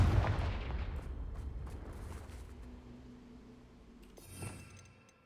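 Confringo fire curse cast in the video game Hogwarts Legacy: a loud, rumbling blast opens, decays over several seconds, and a second, smaller burst hits near the end.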